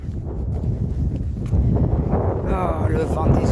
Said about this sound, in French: oh, le vent, désolé, vous allez plus rien entendre